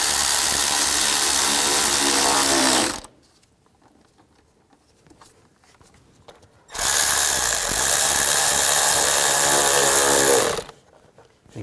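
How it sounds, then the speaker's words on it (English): A power driver tightens worm-drive hose clamps on the intake of a 2003–2013 Toyota Matrix, giving two loud, close whirring bursts of about three to four seconds each, separated by a quiet pause. "Tighten down these worm clamps."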